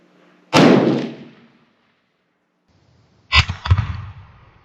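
Two sharp gunshots at a shooting range during target practice, each a loud crack with a short fading tail, spaced about three seconds apart, the second followed by a quick rattling echo.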